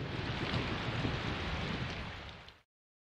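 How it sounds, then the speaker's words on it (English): Rain and rumbling thunder from the video game Persona 4 Golden form a steady, dense wash of downpour with low rolling rumble underneath, then cut off abruptly to silence. "The rain is terrible, dude."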